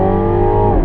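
A 2017 Mini Clubman John Cooper Works All4 with a 2-litre turbocharged engine revs hard, a loud, close, steady engine drone whose pitch holds and then dips slightly near the end.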